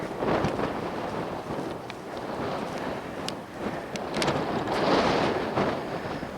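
Wind on an open chalk hilltop batters the microphone with a continuous, loud, close rumble and gusting swells, with no talking.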